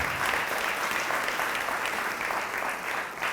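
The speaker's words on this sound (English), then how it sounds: "If you can please give them one more round of applause" Sustained applause from a gala audience at a community schools honors event, a dense, steady wash of many hands clapping at full volume throughout with no pauses.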